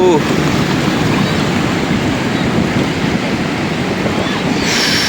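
Ocean surf on a Karachi beach rolls in as a steady, loud wash of waves, with wind buffeting the microphone throughout.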